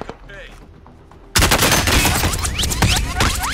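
Loud bursts of automatic OTS gunfire in Warzone erupt suddenly after a quieter stretch of background game noise, continuing densely with overlapping shots to the end.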